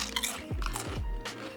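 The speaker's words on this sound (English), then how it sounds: "I'm gonna go in without it because I actually just want to hear that crunch." Someone bites into cooked Australian salmon with a crisp crust, giving several close, sharp crunches followed by chewing.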